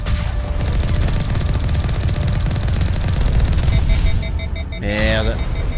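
Sustained, dense Mass Effect gunfire rattles loud and continuous under chatty game noise, with a brief dip and an electronic warbling tone near the end as a voice speaks over it.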